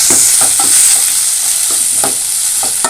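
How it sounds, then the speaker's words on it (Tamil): Tomato, onion and garlic sauté in a hot pan under a loud, steady sizzle, with a spatula scraping and stirring through them every so often. "அடுத்தது தக்காளி வெங்காயம் பூண்டு எல்லாத்தையும் போட்டுடலாம் நல்லா மிக்ஸ் பண்ணிடுங்க நல்லா வதக்கிடுங்க"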